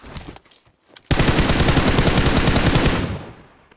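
Automatic rifle fire in PUBG Mobile, a loud, close, continuous burst of rapid shots lasting about two seconds after a few soft thumps, then cutting off abruptly.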